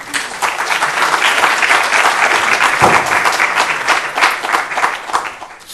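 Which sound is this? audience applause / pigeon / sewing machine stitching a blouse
audience applause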